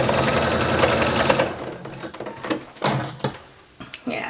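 A sewing machine fitted with a denim needle stitches a seam at a woven-fabric setting, giving a dense steady whir for over a second that breaks into scattered clicks and short mechanical bursts.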